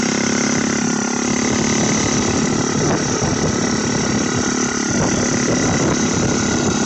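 A turbocharged V3 engine idles steadily while warming up after the choke comes off, a loud continuous drone with uneven throb and mechanical chatter throughout.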